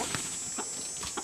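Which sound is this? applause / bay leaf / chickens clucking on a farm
chickens clucking on a farm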